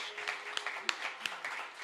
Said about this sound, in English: give a big round of applause for the members